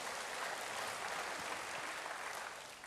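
A dense, steady wash of applause from a congregation at a church service, sustained throughout and fading slightly at the end.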